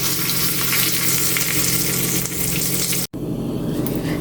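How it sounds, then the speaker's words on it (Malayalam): Dried red chillies and curry leaves crackle and sizzle loudly in hot tempering oil for kootu pulissery, a dense continuous frying hiss up close that cuts off abruptly near the end, leaving a softer tail. "രണ്ടും പൊട്ടി വരുമ്പോൾ നമുക്ക് 2-3 വറ്റൽമുളക് ഇട്ട് കൊടുക്കാം. ഒരു 2 കറിവേപ്പില കൂടി ഇട്ട് കൊടുത്ത് നമുക്ക് കറിയിലേക്ക് ഒഴിച്ചു കൊടുക്കാം."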